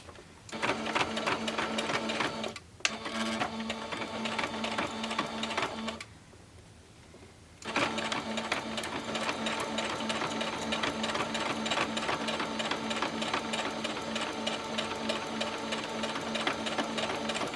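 A home sewing machine runs at slow speed stitching a fabric bowl cozy, a steady close mechanical whir and needle chatter that stops for about two seconds midway, then resumes evenly with no talking.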